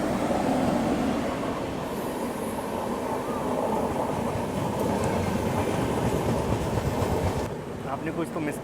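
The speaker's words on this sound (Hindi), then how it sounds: "कोई एक्सप्रेस ट्रेन आ रही है, ओवरटेक करके जा रही है" An express train overtaking the halted Duronto on an Indian rail line, a long steady roar of wheels and rattling carriages close by that thins out near the end.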